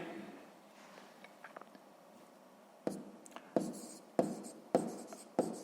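Pen writing on paper during a sixth-grade maths exercise: soft scratching at first, then a series of sharp taps and strokes, close and fairly quiet, with no talk.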